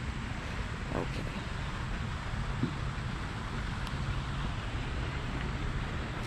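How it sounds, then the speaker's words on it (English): Wind gusts steadily across an outdoor mini golf course, a broad, constant low rumble buffeting the microphone throughout, with voices faintly heard underneath. "The wind is messing everything up"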